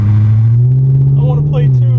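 A deep, loud engine drone from a BMW E39 540 that rises slightly in pitch as it revs, with a brief voice-like sound near the end.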